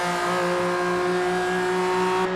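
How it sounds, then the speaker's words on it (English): A BMW GT4 race car in iRacing at Road Atlanta screams along at high revs, a loud buzzing engine whine holding steady pitch throughout with no talk over it. "This BMW always just sounds like an electric toothbrush just got put into overdrive."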